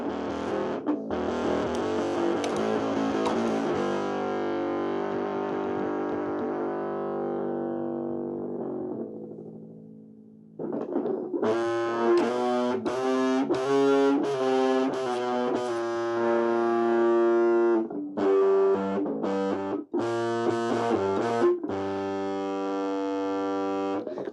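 An electric guitar runs through a wireless system with a drive effect, playing sustained distorted chords that ring out and decay, then a run of choppy, rhythmic driven chords, loud and alone.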